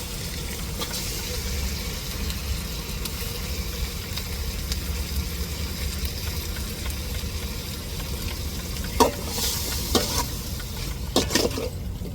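Chicken stirred and fried in a pan with ground ginger-garlic paste for chicken kuzhambu, a steady close sizzle with light scraping stirs and a few sharper clinks of the utensil near the end.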